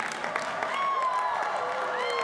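A college commencement audience cheers and applauds in a short, continuous burst of crowd noise.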